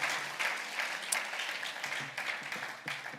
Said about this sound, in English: Another round of applause for Executive Director Henry Oro.